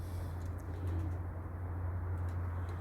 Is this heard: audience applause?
no